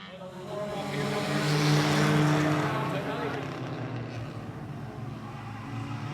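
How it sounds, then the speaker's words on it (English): A mini stock race car doing a burnout at a speedway: a loud, sustained engine roar that swells and fades over several seconds, with a commentator talking over it. "It looks like the better burnout so far going to the 95 of Jeff Bridges as well."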